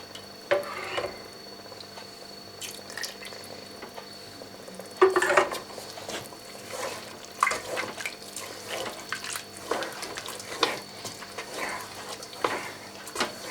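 Milk poured into a pan of bechamel sauce for Iberian ham and chicken croquetas, a soft liquid trickle mixed with clinks and scrapes of a utensil stirring against the pan, close and moderately loud.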